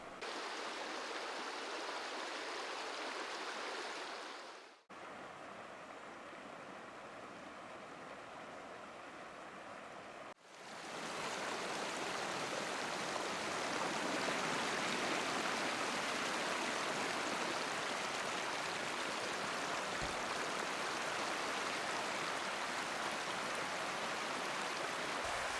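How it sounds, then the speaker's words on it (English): Floodwater rushing across a submerged road at Helsing Junction during a major valley flood, a steady loud broadband roar that briefly drops out, then returns stronger and continues unbroken. "Water's flowing through Helsing Junction."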